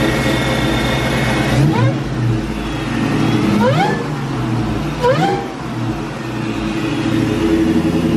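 A 2003 Kenne Bell supercharged Mustang Cobra engine idles loudly nearby and revs up in three quick throttle blips with rising whine, settling back to a rumbling idle between them.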